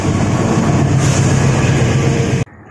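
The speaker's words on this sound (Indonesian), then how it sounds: "Pada siang ini ditarik oleh lokomotif dinas seri CC2061386 depo induk Cipinang." Cikuray economy passenger train hauled by a CC206 series diesel locomotive, heard from the first economy coach right behind the locomotive: steady loud rumbling rail and engine noise that cuts off abruptly near the end.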